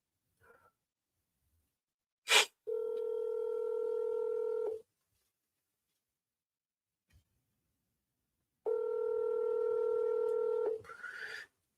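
A telephone being dialed for a commercial real estate cold call: a short blip, then a steady ringback tone that runs for about two seconds, a gap of silence, and a second long ring, clear and without talk.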